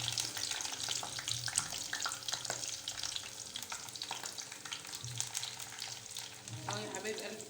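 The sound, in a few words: eggplant frying in a pan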